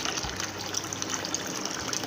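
Drinking water gushing steadily into a vessel while making tomato rasam, a continuous splashing pour with a bright hiss, close by and moderately loud.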